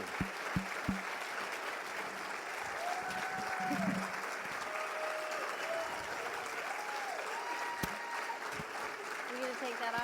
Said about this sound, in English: big round of applause for Bob and Sandy